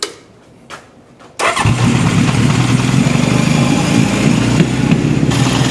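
A 1972 Honda CB750 Four motorcycle with suspected carburetor issues: a couple of faint cranking attempts, then the engine catches and settles into a loud, steady idle that runs on without talking.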